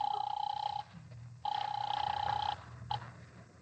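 A telephone rings in two long electronic bursts with a short pause between, followed by a brief chirp, fairly quiet over a low hum.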